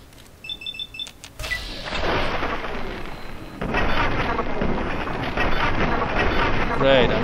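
Plasma rifle in Fallout 3 fired repeatedly at a wall, a sustained run of loud crackling energy bursts and impacts that follow a brief bleeping start, with a voice shouting over the opening.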